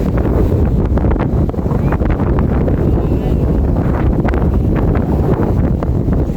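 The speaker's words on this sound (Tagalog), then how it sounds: "lakas ng hangin, guys" Strong wind buffets the microphone outdoors near the water, a loud, steady roar that persists throughout with no break.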